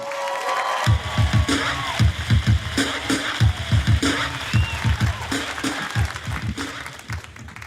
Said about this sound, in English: huge round of applause right now for Joanne Schinderly, everyone.